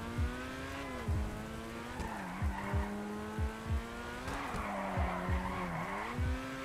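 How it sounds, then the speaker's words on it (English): Lampadati Corsita sports car drifting in GTA Online, its engine droning and shifting pitch while tires squeal and skid in repeated short bursts through the turns. "This thing drifts far, what the heck?"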